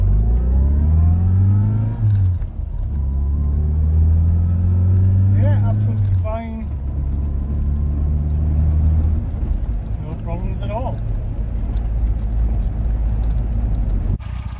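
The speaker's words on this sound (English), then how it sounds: "let's take it out for a test drive and see how she behaves on the road" A Rover Mini Cooper MPI with a newly replaced clutch slave cylinder drives on the road, its engine droning and revving steadily throughout, with a few brief rises in pitch as it shifts and accelerates, close and loud under occasional voices.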